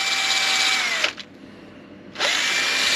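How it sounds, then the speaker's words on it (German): A power drill spins a wire brush against dirty screws with a loud, steady whir, briefly drops off to near quiet for about a second, then whirs back up. "Dann nehmen wir die mal hier schön mit einer Drahtbürste."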